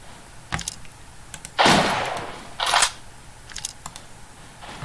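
Gunfire in the blocky online shooter Blockpost, heard as a few sharp clicky shots and two louder bursts of crackling fire between quiet gaps.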